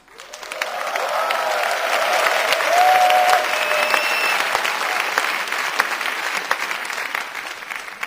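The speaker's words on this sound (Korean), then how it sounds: "박수 쳐주셔서 고맙습니다. 좀 더 세게 치면" A large audience at a church university-student conference applauds loudly and steadily for the whole stretch, swelling slightly in the middle, with no talking over it.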